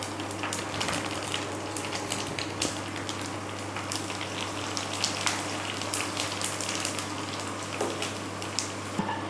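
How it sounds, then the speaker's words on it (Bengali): Food deep-frying in hot oil for Kolkata-style churmur chaat makes a loud, dense, continuous crackle and sizzle with constant popping bubbles, close up and with no talking. "আরও কিছুটা ভেজে নেবো।"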